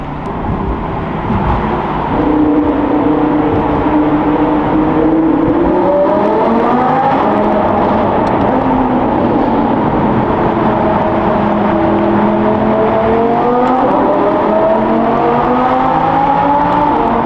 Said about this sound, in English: I want you guys to be able to listen to this V10.